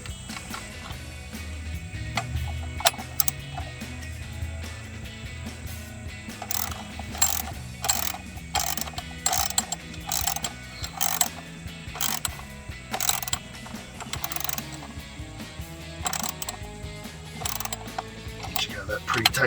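Hand ratchet tightening a nut underneath a Ford F-150 oil separator canister, with bursts of quick clicking strokes repeating in irregular runs, close and fairly crisp, separated by brief pauses.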